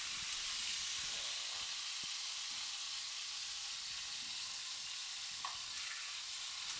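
Chicken browns in olive oil in a pan, a continuous dense sizzle with scattered small pops of grease, steady and close, with no voices.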